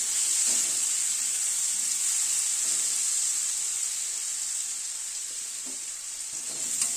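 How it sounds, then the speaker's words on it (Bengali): Kohlrabi pieces seasoned with salt and turmeric fry in hot oil in a pan, giving a steady, close, bright sizzle that holds evenly throughout with faint stirring knocks and no talking. "ওলকপিটাকে একটুখানি ভেজে নেব আগে"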